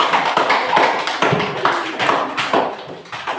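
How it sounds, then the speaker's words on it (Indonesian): A classroom of students applauds, a dense run of quick, irregular hand claps that stays close and fairly loud for the whole few seconds, with no talking over it. "Tepuk tangan kasih."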